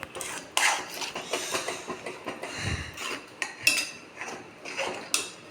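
Rava kesari being stirred in a metal pan, a sweet semolina dish, with a spoon scraping and clinking against the pan in steady irregular strokes, close and moderately loud, with no talking.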